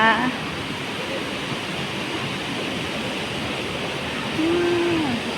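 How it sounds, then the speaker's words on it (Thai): Constant loud roar of rushing water from Phlio Waterfall in Chanthaburi, Thailand, running at strong rainy-season flow, filling the scene with steady broadband noise; a brief whistle-like tone rises near the end. "น้ำแรงมากวันนี้"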